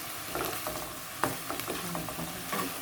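Pork with salt and fresh chili stir-fried in a pan, a steady close sizzle broken by scraping stirs and clinks of the spatula at irregular intervals, with no talking.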